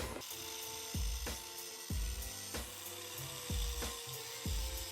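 An angle grinder working down the ends of a metal bar during a custom Corvette interior build, bursts of high whining grind with repeated short pauses and clunks, fairly faint and steady.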